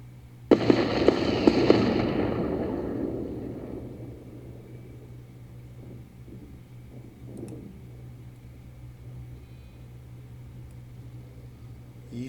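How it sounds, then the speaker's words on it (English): Missiles explode in a space battle in Endless Space 2: a sudden loud burst with several sharp cracks, then a long rumbling decay fading into quiet hum and faint clicks. "Here come the missiles."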